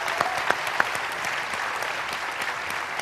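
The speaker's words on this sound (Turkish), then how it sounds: "Rennan Hoca'yı da alkışlıyoruz burada" A TV studio audience applauds during a talk show, giving a dense, steady clapping burst with a few sharper claps near the start, fairly close and loud.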